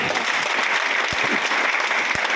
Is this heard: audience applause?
yes